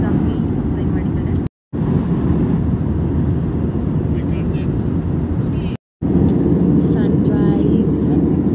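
Airplane cabin noise on a flight from Bangalore to Bagdogra: a loud, steady broadband roar fills the whole stretch, broken only by two brief cut-outs.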